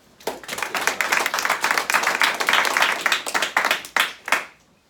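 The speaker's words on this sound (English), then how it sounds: "Give Mario a round of applause" An audience at a live event claps and applauds together, a dense burst of clapping that swells, holds for several seconds, then tapers off into a few last claps.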